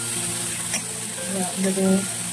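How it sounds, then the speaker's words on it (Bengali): Onions sizzling steadily in a hot pan, close and continuous across the short stretch with a faint background hum. "পেঁয়াজটাকে লাল লাল করে ভাজা হবে"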